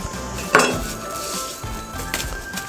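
A sharp kitchen knife handled on a board while making sushi, with one crisp metallic clink near the start and a few lighter taps and scrapes after it, close up and without speech.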